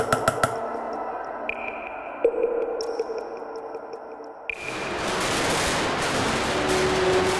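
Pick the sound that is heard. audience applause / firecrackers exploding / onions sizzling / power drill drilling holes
firecrackers exploding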